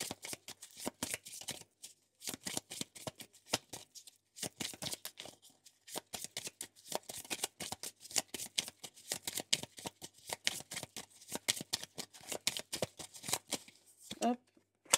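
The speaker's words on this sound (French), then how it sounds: "On va se prendre 2 cartes du Lenormand parce que c'est pas clair ça pour jeudi." Lenormand cards being shuffled and drawn by hand, a dense run of quick crisp riffling flicks and slaps close up, in bursts with short pauses, while someone speaks softly over them.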